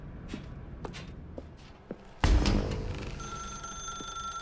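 A telephone rings in The Stanley Parable: Ultra Deluxe, a sudden loud ring cutting in after a few soft footstep-like taps, then settling into a sustained steady tone that continues to the end, with no talk.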